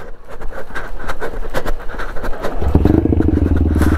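An Apache RTR 2004V motorcycle fitted with a full-system exhaust catches after a push start with a flat battery. Rolling scrape and clatter give way to a loud, close, steady engine note for the final second and a half.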